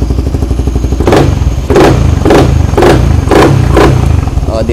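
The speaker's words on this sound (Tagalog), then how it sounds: "Kaya malakas ang tunog niya, nakabukas, walang silencer." A loud Suzuki Raider motorcycle engine with no silencer idles roughly, then revs in five or six sharp bursts, with a raw, unmuffled roar close by.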